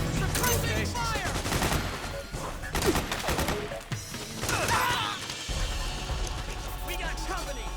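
Metal Gear Solid 4 combat gunfire: bursts of automatic weapon fire, crashes and mechanical clatter crowd together throughout, mixed with shouting voices and battle noise.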